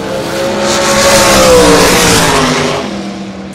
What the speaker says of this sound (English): Nice 330 burnout here over on the Summit side.